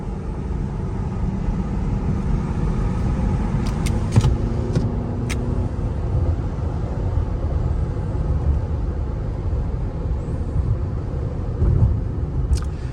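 A 2020 Toyota RAV4 TRD Off Road on new Toyo Open Country AT3 235/60R18 tires accelerating, a steady broadband road and engine rumble from inside the cabin, loud and continuous with no talk.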